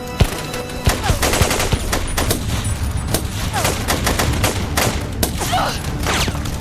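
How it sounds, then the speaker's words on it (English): Rapid gunfire from a film gunfight scene crackles in dense, overlapping bursts with sharp cracks and loud shots close by, continuing throughout amid brief shouting. "they realized they were surrounded by the enemy, and a big gunfight broke out"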